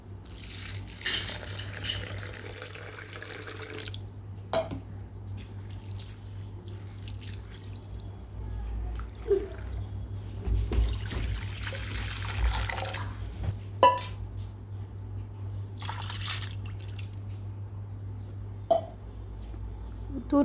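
Toor dal being rinsed in water, with intermittent splashing and dripping bursts that come and go over a low steady background hum, close by and moderately quiet.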